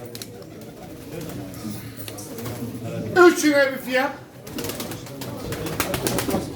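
Pigeons coo at a pigeon auction in Çorum, soft repeated calls in the background while an auctioneer talks over them and calls for a price.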